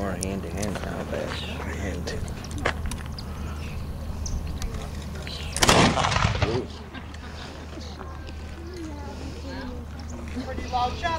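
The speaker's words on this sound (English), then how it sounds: "Pretty loud shot. That's going to be heard all over the battlefield." A British musket fired in a soldier demonstration at a historic fort gives one loud, sharp shot midway, followed by a brief rumbling decay, set against steady outdoor background noise and a murmuring crowd.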